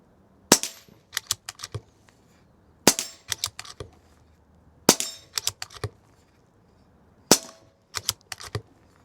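PCP air rifle firing pellets at targets, with four sharp cracks spaced several seconds apart, each followed by a cluster of quieter clicks and clacks from working the action, close and crisp.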